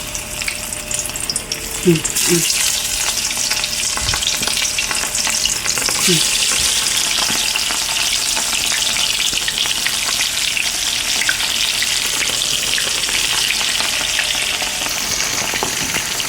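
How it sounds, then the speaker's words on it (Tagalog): Food fries in hot oil in a pan, giving a loud, constant sizzle and crackle throughout, with occasional stirring knocks and brief scraping sounds. "Magpiprito na tayo. Pasindihan muna natin ang kawali."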